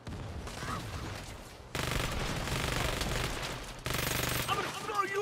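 Sustained automatic gunfire in Saints Row, dense rapid bursts that start and stop abruptly in a few long strings, loud and close amid game noise.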